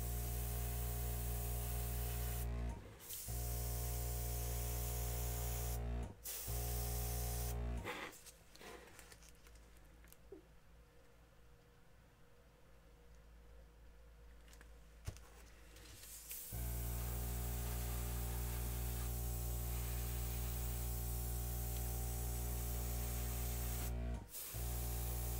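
An airbrush sprays acrylic paint in a continuous hiss, stopping briefly a few times and dropping out for a longer pause midway before resuming at the same steady level.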